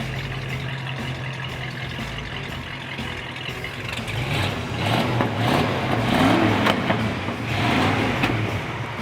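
Emerald green 1968 Ford Bronco with its factory 289 V8 running steadily, a low rumble that swells partway through as the engine is revved, close and loud with no talk.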